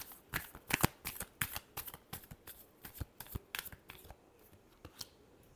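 Tarot cards are shuffled close by in a quiet room, giving soft, irregular riffling and flicking bursts that are faint and unaccompanied by speech.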